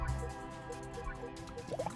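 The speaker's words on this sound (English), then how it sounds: "And flush them down the toilet." A flushing toilet in the prison game The Escapists 2 gives a short watery, dripping and gurgling rush of liquid, close and steady over a faint tonal game background.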